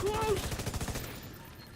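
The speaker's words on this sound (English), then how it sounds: "Is that your flame grenade again? Too close!" Burst of a companion's flame grenade detonating too close in a video game: a loud crackling, rumbling blast at the start with rapid popping bursts, fading out over under two seconds.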